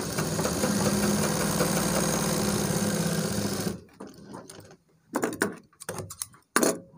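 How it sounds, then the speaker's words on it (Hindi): A sewing machine runs steadily, stitching down the strip on a trouser back pocket, then breaks into several short bursts with pauses between, loud and close with no voices. "यहाँ पर सिलाई लगा के इसको जमा लेना है।"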